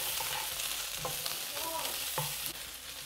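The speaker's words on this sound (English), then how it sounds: "So in goes the ginger and garlic and a couple more minutes of cooking." Ginger and garlic fry with onions in a pan, a soft continuous sizzle with a few light stirring scrapes, quiet and close.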